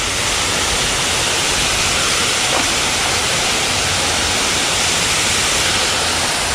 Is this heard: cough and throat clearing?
no